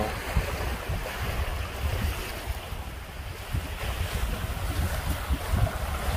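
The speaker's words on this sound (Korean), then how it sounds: "잠잠하고 예쁜 바다네." Calm sea washes softly onto a narrow beach on Kohama Island, a steady low rush of small waves mixed with light wind buffeting the microphone, continuous and without voices.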